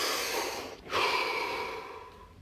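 A single deep breath, a slow breathy inhale turning into a longer airy exhale, close and soft with no talk.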